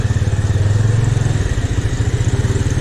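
A motorcycle engine rumbles loudly and steadily up close while riding through a narrow lane in Bhaktapur, its throb pulsing evenly throughout.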